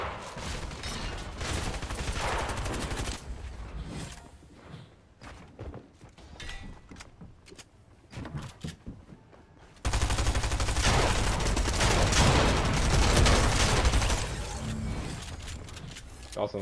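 Video game gunfire arrives in dense rapid bursts, loud and close, first in clusters of shots and then as a sustained barrage, with a player shouting over it.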